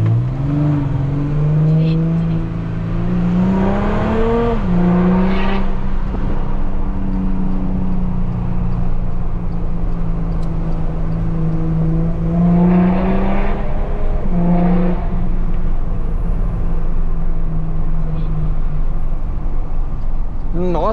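Cabin recording of a Volkswagen Amarok V6 pickup accelerating through a roundabout in a small town. The engine rises and falls in pitch with revving, steady and close, while people talk intermittently over it.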